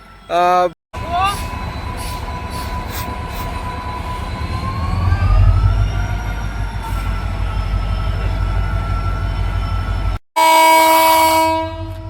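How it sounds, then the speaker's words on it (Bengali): Stone-loaded wagons hauled by a WDG4 diesel locomotive grind and rumble through a station. A long, high wheel squeal rises and holds over the heavy low drone, and short horn-like bursts are heard near the start and end. "পাশাপাশি দুটো লোকোমোটিভ এদিকে কাজ করছে নতুন প্ল্যাটফর্ম লাইন রেডি করার জন্য"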